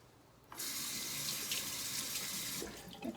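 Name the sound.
water from tap rinsing hand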